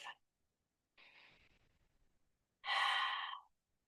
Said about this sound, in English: take a slow breath